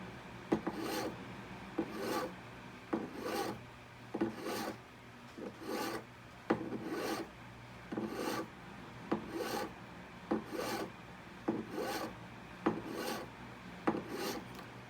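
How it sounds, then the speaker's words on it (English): A hand file rasps across a jewelry wax band in steady back-and-forth strokes, about fourteen even scrapes spaced roughly a second apart, close and clear with no voices. "it's best to start with a file"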